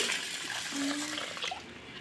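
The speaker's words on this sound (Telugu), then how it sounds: "ఇంకొక బౌల్ తీసుకొని ఇందులో మినప్పప్పు వేసుకొని ఒక్కొక్కసారి కడిగేసుకొని" Urad dal being washed by hand in a bowl of water, with soft sloshing and swishing of water and lentils across the whole stretch, fairly close and alone.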